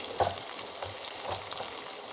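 Fish sizzles in a frying pan with a continuous crackling hiss and scattered spattering pops, heard up close with no talking.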